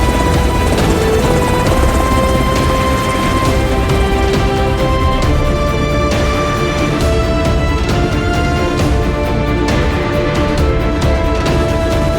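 A loud, steady helicopter roar fills the whole stretch with a constant rotor drone and mechanical whine, and no voices.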